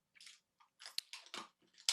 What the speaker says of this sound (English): Leo is now chewing a bone